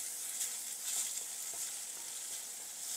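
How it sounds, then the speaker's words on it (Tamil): Chopped onion sautés in a pan with a soft, even, continuous sizzle and faint crackles, with no talking. "ஒரு வெங்காயம் சாப் பண்ணி ஆட் பண்ணலாம். இந்த வெங்காயம் வந்து கொஞ்சம் நேரம் வதங்கட்டும் ஒரு 2 minutes கிட்ட"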